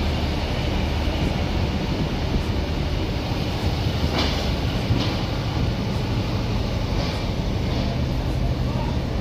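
Puri Duronto Express, the 22201 train from Sealdah to Puri, heard from inside as it runs at night near Bhubaneswar: a loud, steady rumble and roar with faint periodic clicks from the rails.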